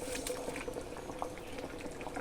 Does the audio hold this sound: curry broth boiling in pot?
yes